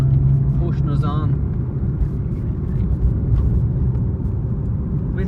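A Mitsubishi Evo 1 with four-wheel drive on a road test, its engine droning loud and steady under acceleration with a low rumble inside the cabin, and a brief whistle-like tone near the start.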